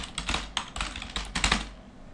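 A password typed on a computer keyboard, a close run of quick irregular key clicks in small bursts, with no talking.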